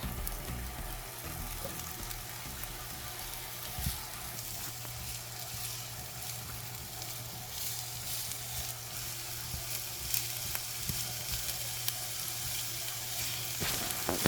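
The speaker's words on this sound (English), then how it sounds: "here I'm gonna drizzle a little bit of olive oil in my pan, and this is to saute the vegetables" Vegetables, spinach among them, sauteing in olive oil in a pan for an omelette: a steady, fairly loud sizzle runs throughout with occasional stirring scrapes and small pops, no one talking.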